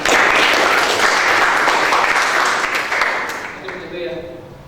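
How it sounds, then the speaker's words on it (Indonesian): Applause from students in a classroom during an Indonesian civics lesson, a dense, loud burst of many hands clapping that fades toward the end as a voice begins speaking over it. "Tepuk tangan untuk"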